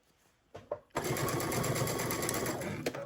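A sewing machine stitching sweater sleeves at about a 2.5 stitch length, running in a steady, close, continuous whir for about two seconds after a couple of soft knocks, with no talking.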